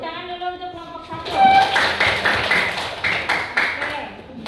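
A classroom group applauds for the first presenting team, with a burst of clapping from many hands that swells and then tapers off over a few seconds.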